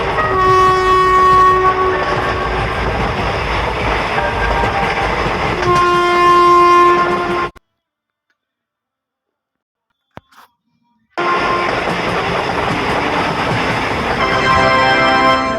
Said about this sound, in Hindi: ड्राइवर ने ट्रेन को स्टार्ट कर दिया